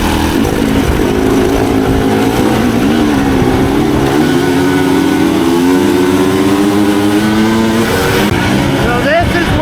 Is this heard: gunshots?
no